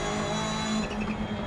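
A rally car engine in the video game Dirt Rally 2.0 drones loudly and steadily at close range, its pitch holding then shifting briefly, with no talk over it.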